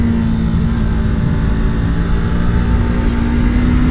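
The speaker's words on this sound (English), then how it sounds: "here we go, tractor motor" A steady, loud Yamaha YZF-R3 motorcycle engine drone holds at a constant pitch, close by, with no voices.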